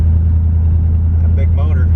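A 1970 Corvette with a 454 engine and a close-ratio M22 four-speed is driven on the road, its deep engine drone steady and close from inside the car, with a brief voice near the end.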